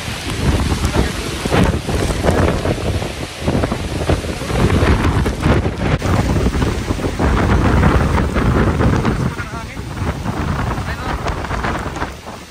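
Strong typhoon winds batter a rural area near Bula, Camarines Sur, with a loud, continuous roar of gusts, wind buffeting the microphone, and rain rushing steadily throughout.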